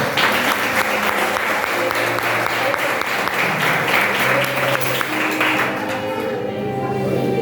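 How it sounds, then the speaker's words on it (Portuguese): A church congregation at a garage worship service claps loudly in a dense, sustained burst of applause that eases off near the end, with tonal sounds running underneath. "Vamos mais uma vez, por favor, aplaudir o nome do Senhor bem forte."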